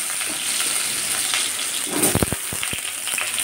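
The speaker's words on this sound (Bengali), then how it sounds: "তেলটা গরম হয়ে গেছে, এতে আমি আলুটা দিয়ে দিই।" Potatoes frying in hot mustard oil: a steady broadband sizzle and crackle throughout, with a burst of sharper pops and spatters near the middle as the pieces settle in the oil, close and fairly loud, with no talking.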